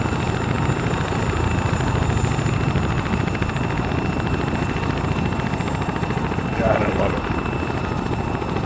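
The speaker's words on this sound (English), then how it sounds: "Wanted to hear the fucking helos." Military helicopters in a video game, a loud continuous rotor drone with steady thumping that fills the whole stretch, with voices talking over it on radio chatter.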